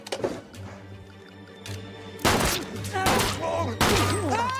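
Rapid gunfire bursts in a parody movie shootout scene, loud sharp volleys erupting in two or three clusters over a low background hum with brief voices between them.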